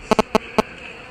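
Honey bees tend a caged queen during beekeeper training, with four short, sharp buzzing bursts close by, two quick ones followed by two spaced ones, then a quieter steady hum.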